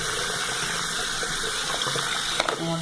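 Water running from a sink tap during an iPhone 6 screen repair, a steady hissing stream that goes on throughout, with a few small knocks near the end.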